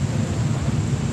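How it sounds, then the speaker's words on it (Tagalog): Heavy rain with thunder makes a continuous, dense wash over a deep, steady rumble, close and loud throughout with no voices. "Anong oras nag-umpisa yung ulan bali dito?"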